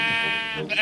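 Sheep bleating in Minecraft, a single steady, nasal game bleat heard alone and fairly loud, with a brief break near the end.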